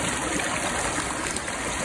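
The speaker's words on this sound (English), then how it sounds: "So much water." A wide, swollen stream rushes steadily past, its broad water noise close and constant, without speech.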